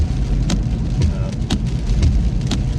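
Steady rain falling outdoors, a constant loud hiss with a few sharper drip or splash accents, heard alone without voices.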